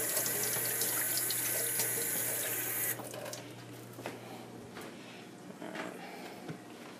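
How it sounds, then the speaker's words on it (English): Cold water runs steadily from a sink tap as an Otterbox silicone phone case is rinsed under it. A continuous hiss and splash fills the first three seconds, then stops and leaves quieter handling sounds. "just run it under some cold water"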